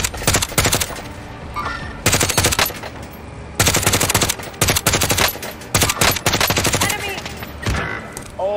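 Loud, close automatic gunfire from Call of Duty: Warzone rips out in repeated bursts, separated by short pauses, with players talking in between.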